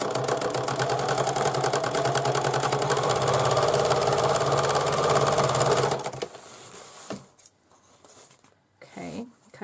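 A sewing machine top stitching a fabric pencil bag closed, a fast steady whirring chatter lasting about six seconds before stopping, followed by a few quiet handling sounds and faint speech.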